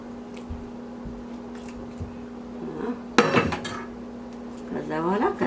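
A spoon stirs genfo porridge in a pot, giving soft scrapes and clinks, then a louder clatter. A steady hum lies underneath, and brief voices come in near the end.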